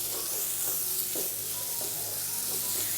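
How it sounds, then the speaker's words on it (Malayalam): Masala sautés in a pan over a medium flame, a soft continuous sizzle broken by occasional quiet stirring scrapes, faint and without voices. "ഏകദേശം ഒരു 2 മിനിറ്റോളം ഫ്ലെയിം ഒന്ന് മീഡിയത്തിൽ വെച്ച് കൊടുത്തിട്ട് നമുക്ക് നല്ലതുപോലെ ഒന്ന് വഴറ്റിയെടുക്കാവുന്നതാണ്"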